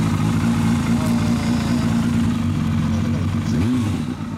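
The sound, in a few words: 1997 Suzuki GSX400 Impulse motorcycle engine revving, Yoshimura exhaust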